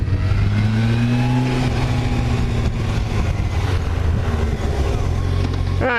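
Motorcycle engine accelerating toward about 60 mph on a road with a 25 mph limit, a steady loud drone with rising and falling harmonic pitch sweeps under constant wind rush, alone without talk.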